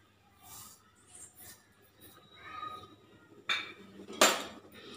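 Sugar added to a pot of sago payasam and stirred, heard as faint scraping, then sharp metallic clinks of a spoon against the pot, close and brief.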